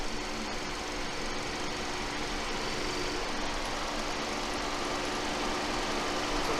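A Kia K5 with the 1.6L turbo engine and a Burger Motorsports cold air intake idles steadily at a close distance, giving a continuous even hum with no revving or speech.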